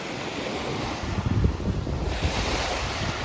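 Big sea waves break on a shore at Dolzhanskaya, Russia: a steady roaring wash with a heavier crash in the middle, heard close and mixed with wind buffeting the microphone.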